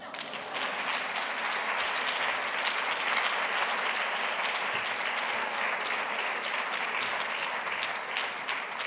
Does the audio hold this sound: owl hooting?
no